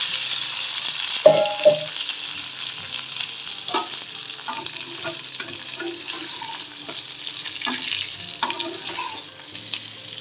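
Kozhukattai dumplings sizzle in a hot oil tempering of mustard seeds, urad dal, dried red chilli and curry leaves, a steady crackle broken by sharp stirring scrapes and clinks of a spoon against the pan.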